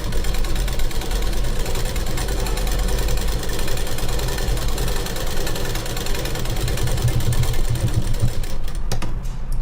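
Sewing machine stitching a blouse, running continuously at high speed with a steady dense mechanical whir and rapid needle rhythm throughout, close and loud, tapering briefly near the end.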